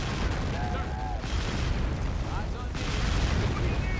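Cannon fire from a 20 millimeter gun in the Men of War: Assault video game, set during the 1942 Dieppe raid, heard as a dense barrage of booms and bursts under raised game voices.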